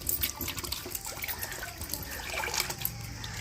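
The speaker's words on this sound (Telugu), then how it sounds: "ఇంక అన్ని వెజిటేబుల్స్ని కడుక్కోవాలి నీళ్ళ శుభ్రంగా" Water splashes and trickles as vegetables are washed clean by hand, a close, uneven wash of running and dribbling water with small splashes throughout.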